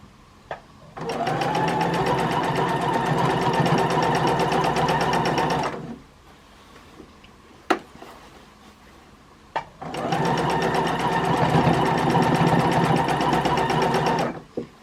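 A sewing machine doing free motion stitching on a Dresden flower quilt block runs in two loud, steady rapid bursts of about five seconds each, separated by a quiet pause with a few clicks.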